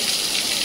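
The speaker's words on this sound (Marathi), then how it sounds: "डोंगरातून पाणी येतंय डायरेक्ट." Water pours straight down from the mountain at the Ajanta caves, a loud, steady, hissing rush with no pause and no voices.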